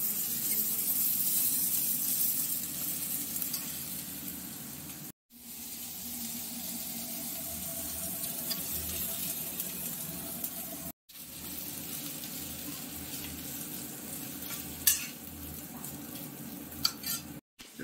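Soaked chana dal frying in a pan with a coconut and cumin masala, giving a steady close sizzle with stirring scrapes and light utensil clinks, broken by brief pauses.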